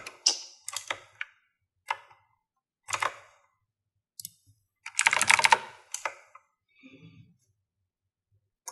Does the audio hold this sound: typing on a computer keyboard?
yes